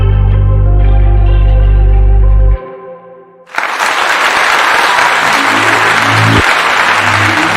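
Applause from an audience bursts in after a musical passage and a brief lull, a dense, sustained wash of clapping that stays loud to the end, with a low tone sounding beneath it.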